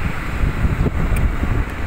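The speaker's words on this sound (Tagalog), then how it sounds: "napakalamig ang simoy ng hangin talaga dito." Steady wind rushes and buffets the microphone, a continuous low roar with no voices.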